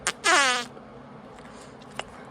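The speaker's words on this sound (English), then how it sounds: "How are the fart sounds?" A short cartoonish fart sound effect from the video game Grounded, one loud buzzy burst after a brief pop, then a faint click against a quiet background.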